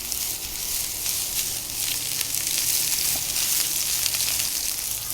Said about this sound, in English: We're going to add our onions. Just want to brown them a little bit.